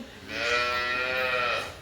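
A single drawn-out call from a cow in a stable rises and holds for over a second nearby before fading, with no talking.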